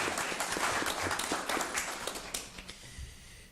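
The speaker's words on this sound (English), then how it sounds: "let's give them a round of applause" A school board meeting audience applauds Mr. Burke and his team at the Jackson Public School District, moderately quiet clapping that starts full and steadily fades away over a few seconds.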